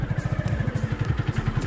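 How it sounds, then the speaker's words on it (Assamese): A motorbike ridden along a rough tractor track, its engine thumping in a steady rapid beat of low pulses, close and continuous throughout. "ট্ৰেক্টৰ ৰাস্তাত আমি বাইক চলাই আহি আছো"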